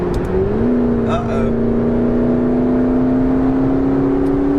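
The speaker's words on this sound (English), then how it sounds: "Whoa! The car took off." A McLaren 650S Spider sports car accelerates hard, its engine note rising then holding a strong, steady climbing drone, loud and close from inside the cabin, with a brief spoken exclamation early on.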